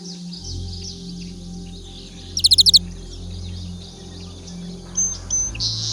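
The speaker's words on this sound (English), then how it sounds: "The chirping sound gradually faded away" A bird gives a quick burst of rapid chirps in a forest at sunset, brief and fairly clear over a low steady hum and faint high insect-like buzzing.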